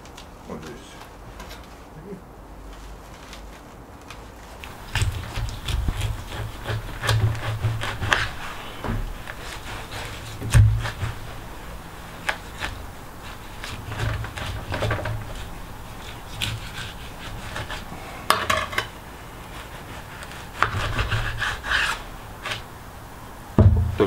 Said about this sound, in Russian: Сначала отрежем рульку.